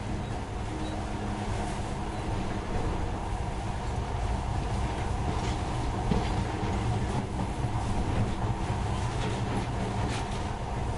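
Monorail train running in a PS4 video game, a continuous rumbling rolling roar with faint rhythmic rattling, steady and fairly loud for the whole stretch.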